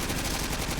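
Rapid gunfire in the Pixel Strike video game, a dense fast burst of shots heard up close and fairly loud in a brief snippet.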